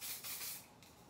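Hairspray mists onto an Edwardian-style wig being curled and pinned, a close, soft hissing spray in a couple of quick bursts lasting about a second.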